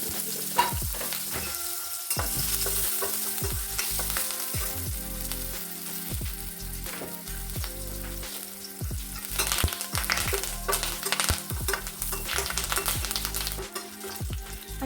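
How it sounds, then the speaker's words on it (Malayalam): Green chilies and curry leaves frying in hot oil, a loud continuous crackling sizzle with sharp spattering pops and occasional stirring scrapes, close up and alone. "എണ്ണ ചൂടായി വരുമ്പോഴേക്കും അതിലേക്ക് പച്ചമുളക് പച്ചമുളക് കറിവേപ്പിലയും കൂടി"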